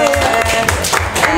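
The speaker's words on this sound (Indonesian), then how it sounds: "Tepuk tangan sekali lagi." Audience applause at the 36th anniversary gathering of Salman Al Farisi in Bandung: a loud, dense, continuous wash of clapping that fills the whole moment, with voices mixed in.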